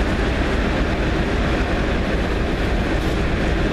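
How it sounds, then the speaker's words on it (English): Class 56 diesel locomotive 56087 idling at a station, a loud, dense, continuous engine rumble and roar close by, steady throughout without talk. "56087 is fired up and ready to go to Moss End."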